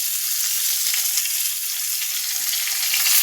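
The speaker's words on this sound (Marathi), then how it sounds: "आता आपलं हे टोमॅटो सुद्धा याच्यामध्ये चांगलं परतवून घ्यायचं" Tomatoes sauté with onion and garlic in a hot pan for a spicy bombil masala, giving a loud, steady, close-up sizzle throughout with no talking.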